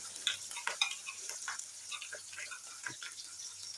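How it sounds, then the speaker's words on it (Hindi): Green chilies, ginger and garlic frying gently in a pan over low heat, a soft steady sizzle with scattered stirring clicks and scrapes close by. "तो हरी मिर्चें और अदरक लहसुन और ये इसमें डाल के तो इसको 30 सेकंड तक आस्ता आस्ता से फ्राई करेंगे"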